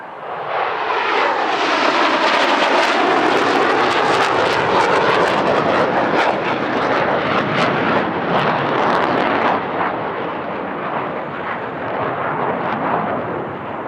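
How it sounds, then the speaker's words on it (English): Six US Air Force Thunderbirds F-16CM Block 52 jets flying an airshow display at the California International Airshow, a loud, continuous roaring jet engine blast that swells and slowly fades as the formation passes. "6 F-16CM-52CFs being flown in this display."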